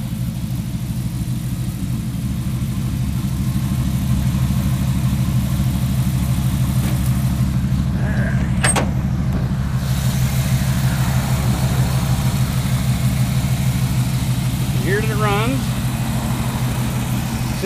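A 1959 Chevy Biscayne engine idles with a steady, even low rumble throughout, heard close and continuous, with a brief sharp tick in the middle and a faint voice near the end.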